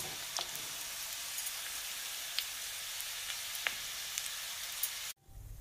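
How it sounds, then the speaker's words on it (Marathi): Noodles deep-frying in hot oil for veg manchow soup, a steady, loud sizzling hiss with scattered pops and crackles that cuts off abruptly near the end. "अशाच प्रकारे आपण बाकीचे सगळे नूडल्स तळून घेऊया"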